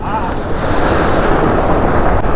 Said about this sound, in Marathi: समुद्र खवळला आणि हा रस्ता किती धोकादायक आहे